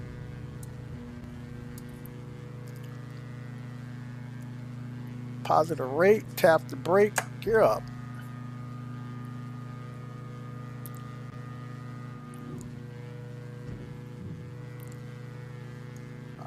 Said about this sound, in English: All right, the engine didn't sound that good.